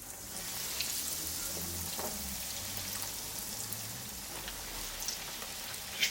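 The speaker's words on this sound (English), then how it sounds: "So your pakoras are ready now to just put in the oil." Chicken pakoras fry in hot oil, producing a quiet, steady sizzle with scattered soft pops and crackles throughout, with no voices.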